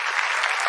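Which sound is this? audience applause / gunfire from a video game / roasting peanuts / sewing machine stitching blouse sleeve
audience applause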